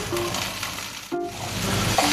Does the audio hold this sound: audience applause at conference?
no